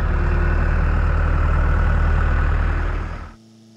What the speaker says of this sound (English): they're using both tractors right now. We've got the big John Deere